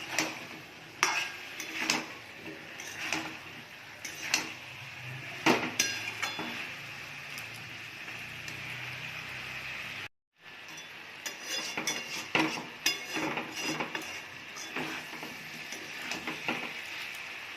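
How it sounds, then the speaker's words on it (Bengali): Potatoes and green jackfruit are stirred and fried in a pan, a metal spoon clinking and scraping against it in repeated strokes over a steady, moderately loud sizzle. A brief pause breaks the stirring midway. "এবারে আলু আর এঁচোড়টা দিয়ে দেব, দিয়ে ভালো করে কষে নেব"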